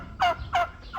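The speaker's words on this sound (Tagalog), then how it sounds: "Si Pabo. Happy si Pabo" A turkey on a farm gobbles twice in quick succession close by, with the start of a third call at the end, loud and alone.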